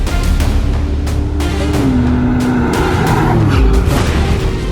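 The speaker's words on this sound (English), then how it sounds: "This is the W Motors Lykan Hypersport." A W Motors Lykan Hypersport supercar engine roars loud and close, its pitch rising and falling through revs with a deep rumble and booming bursts, and no talking over it.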